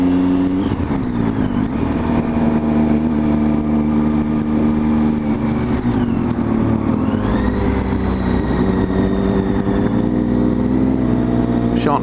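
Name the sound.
motorcycle engine on the road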